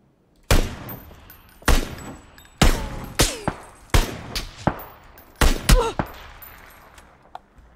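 Gunfire in the battle royale game PUBG on Erangel, with sharp loud shots in irregular single and paired bursts spread over several seconds, each followed by a short fading tail.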